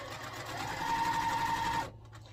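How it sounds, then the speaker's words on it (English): A sewing machine stitches a quilt block seam with a steady close mechanical whir that runs for under two seconds and then stops abruptly. "once you have your line drawn, you're just going to sew down both sides"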